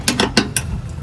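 Ratchet wrench loosening a 10 mm bolt on a bent fender of a 2011-2014 Chrysler 200; four quick, close clicking ratchet strokes in about half a second, then a faint mechanical rattle.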